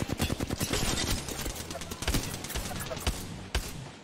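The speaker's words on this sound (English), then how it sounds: "I hate this shotgun with no bolt." A shotgun fires in the battle royale game Apex Legends, with rapid gunfire bursts and sharp cracks mixed into busy game noise, loud and close, while a person talks.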